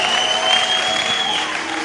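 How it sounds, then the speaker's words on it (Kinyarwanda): Wedding celebration crowd applauding steadily in praise of God, a dense, continuous wash of many hands clapping close by with no break across the moment, fading slightly near the end. "Mukomere Imana amashyi menshi."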